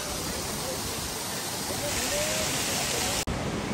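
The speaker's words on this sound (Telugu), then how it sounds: "ఇటుపక్క కూడా గ్లేషియర్ వాటర్ కిందకి వెళ్తున్నాయి." Glacier meltwater rushing down a mountainside near Kedarnath after rain, a loud, steady roar of flowing water filling the scene with no break.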